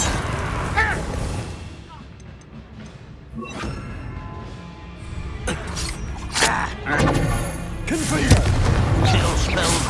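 A fire spell cast in Hogwarts Legacy in the middle of a combat encounter, heard as booming, crackling bursts and thuds that build in loudness toward the end, mixed with game speech.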